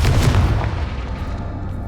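Confringo spell explosion in Hogwarts Legacy, a loud low boom that rolls out into a steady rumbling decay over about two seconds, with no voices.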